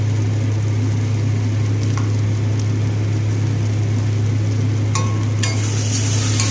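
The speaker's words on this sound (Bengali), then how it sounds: "এবার মশলাটাকে ভালো করে কষাবো" Ground spice paste of onion, garlic and green chilli frying in a pan for a Bengali fish curry, a steady loud sizzle throughout with a constant low hum and a few sharp clinks of stirring near the end.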